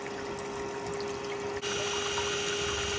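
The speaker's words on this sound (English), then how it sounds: "We'll also turn the funnel water on. It doesn't require much, just basically a trickle" A light, steady trickle of water runs through a gold sluice funnel, a constant, close hiss of flowing liquid with a faint mechanical hum beneath and a slight change in tone partway through.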